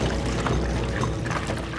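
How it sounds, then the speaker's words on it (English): Gasoline pouring from a container, a steady continuous liquid gush heard close and alone, with no voices, for under two seconds. "He pours gas."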